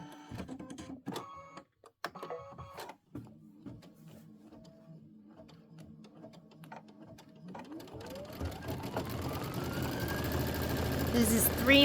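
A Kimberbell embroidery sewing machine stitches a Sweet Liberty mug rug, first clicking and whirring unevenly, then settling into a rising steady mechanical hum that grows louder, with a voice speaking early on.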